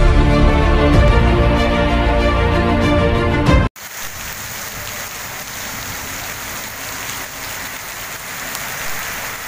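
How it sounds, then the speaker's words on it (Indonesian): Steady rain falls in a dense, even hiss after music cuts off abruptly, continuous and fairly loud with no voices. "Alhamdulillah hujan lagi, seger kalau melihat hujan."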